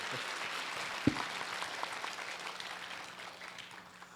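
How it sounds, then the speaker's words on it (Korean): An audience at a book concert in Sejong gives sustained applause, a dense, even patter of many hands that gradually fades toward the end, with one sharper knock partway through. "그래서라도 응원의 박수 한번 쳐주시죠"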